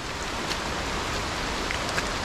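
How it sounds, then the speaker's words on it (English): Jungle downpour during a hike in Cockscomb Basin Wildlife Sanctuary, Belize, a dense steady hiss of rain falling on leaves and ground, with no voices. "Still raining. We got caught in about a 15-minute downpour."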